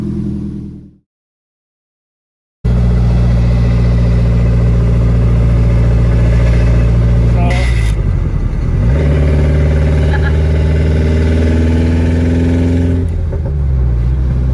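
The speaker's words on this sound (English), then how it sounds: "It's got a really bad exhaust leak" A Nissan 240SX with an SR20 engine and a bad exhaust leak fires up after a moment of silence, then runs loud and close with rough rumbling and rising revs as it accelerates.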